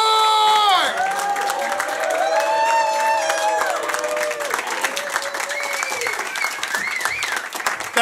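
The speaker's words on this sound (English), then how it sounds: "Give a big warm round of applause for Dan McCort!" A comedy club crowd claps, cheers and whoops loudly as comedian Dan McCort is brought on stage, with high shouts and whistles rising over dense, continuous applause throughout.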